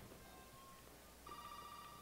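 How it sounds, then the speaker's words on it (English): Telephone ringing inside the Resident Evil 7 video game, a faint, steady electronic ring that grows clearer in the second half over a quiet ambient background. "Yeah, there's a phone in here somewhere."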